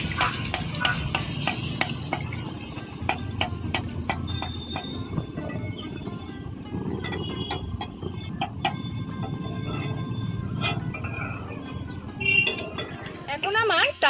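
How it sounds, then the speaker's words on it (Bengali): Palm-fruit fritters (taler bora) frying in hot oil while a metal skimmer stirs them, with repeated scraping strokes over a constant sizzle, close up. "এইখানে কিন্তু আমরা ঝাড়া দিয়ে জাস্ট এইভাবে তেলটাকে একটু নাড়াচাড়া করব"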